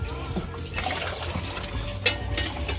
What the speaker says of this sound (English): Adding some more water.